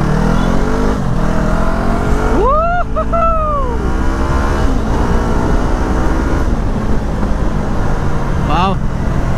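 A motorcycle's engine is heard as the rider twists the throttle, a steady loud motor drone with a sharp rising-and-falling whine around mid-clip and another brief rev near the end; talk occurs alongside.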